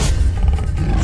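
A tiger in the Sundarbans forest roars loudly and close for about a second: a deep, continuous rumbling growl with no voices over it.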